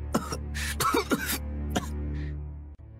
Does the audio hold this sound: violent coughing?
yes